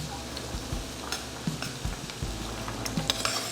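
Mushrooms, red pepper, celery and onions sizzle softly in a pan, with a low steady crackle, occasional clicks and stirring scrapes, heard close but faint.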